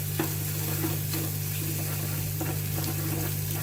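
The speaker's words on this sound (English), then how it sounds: "It's very important for your mustard and cumin seeds to splutter." Mustard and cumin seeds splutter and crackle in hot oil in a pan, a steady close sizzle with scattered sharp pops and a low hum in the background.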